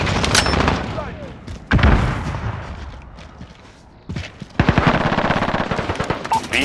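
Rattling automatic machine gun fire from a modern military shooter game comes in loud bursts separated by quieter gaps, mixed with game effects and radio-style callouts.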